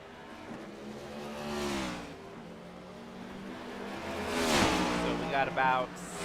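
Race cars in iRacing practice at Watkins Glen rev and accelerate, engine pitch sweeping up and down as they pass, with a commentator talking over the whine throughout.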